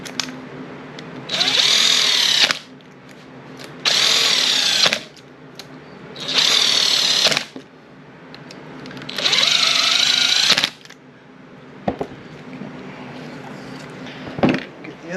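A power tool snugs bolts on the engine of a 2010 Ski-Doo Summit 800X during a rebuild, running in four loud bursts of one to one and a half seconds each, separated by pauses with faint workshop noise.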